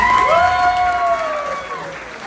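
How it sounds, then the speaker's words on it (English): Wedding guests clap and cheer after a speech, a loud burst of applause mixed with voices that fades toward the end. "Round of applause for Christine and everyone that gave a speech"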